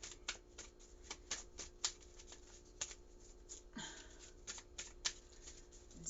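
A deck of tarot cards is shuffled by hand at close range in a quiet room, with repeated soft riffling bursts and crisp card snaps at irregular intervals.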